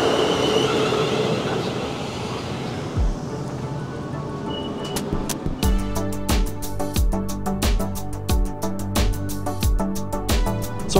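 A train runs on rails between Farnborough and Wokingham, with a low rumble at first, then dense rhythmic clickety-clack wheel beats over rail joints growing louder and steady through the second half, with no talk.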